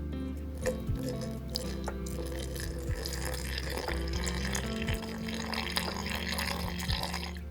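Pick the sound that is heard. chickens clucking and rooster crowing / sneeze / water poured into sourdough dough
water poured into sourdough dough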